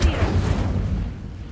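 A fire spell is cast in the video game Hogwarts Legacy, giving a loud, close whooshing burst of flame with a deep rumble that fades over about a second and a half.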